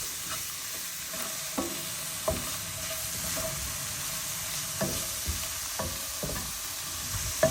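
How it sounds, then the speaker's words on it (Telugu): Spinach fries over medium heat in a pan while being stirred, giving a steady soft sizzle broken by occasional sharp spatula clicks and scrapes; no one speaks. "ఇలా మీడియంలో పెట్టుకొని కొంచెం ఫ్రై చేసుకోవాలండి."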